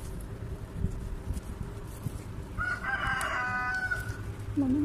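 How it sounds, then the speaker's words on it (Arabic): Rooster crowing once clearly, a drawn-out cock-a-doodle-doo rising over a rustling outdoor background, with another short call at the end. "الواحد لما يسمع صوت صياح الديك"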